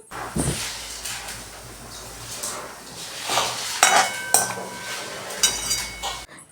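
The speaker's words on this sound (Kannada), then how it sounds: "ದಾಲ್ಚಿನ್ನಿ ಮತ್ತು ಅದಕ್ಕೆ ಸ್ವಲ್ಪ ಲವಂಗ ಹಾಕಿ ಫ್ರೈ ಆಗಬೇಕು ಎಣ್ಣೆಲಿ ಚೆನ್ನಾಗಿ ಫ್ರೈ ಆಗಬೇಕು" Small pieces of cinnamon and cloves frying in oil for aloo dum crackle in uneven bursts, mixed with clinks and scrapes of a utensil against the pan.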